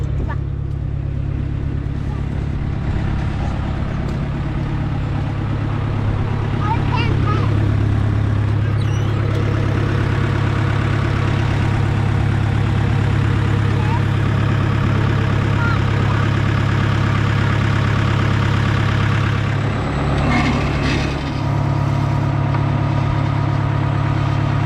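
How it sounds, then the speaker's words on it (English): A steady low tractor engine rumble idles continuously throughout on a farm, loud and close, with a brief dip near the end and faint voices underneath. "Alright, let's get in the tractor."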